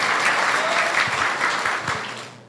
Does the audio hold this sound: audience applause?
yes